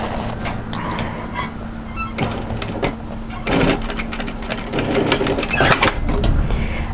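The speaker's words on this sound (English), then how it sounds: "I'm just going to stitch that down on top of the overlocking just to hide it in place" A sewing machine stitches a coatigan seam down over overlocked fabric, a steady, close, rapid mechanical whirr that keeps running with small surges in speed.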